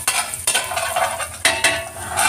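Garlic sizzles in a hot pan for a cream corn dish, a steady crackling fry broken by several sharp scraping stirs of a utensil against the pan, close and fairly loud with no talking.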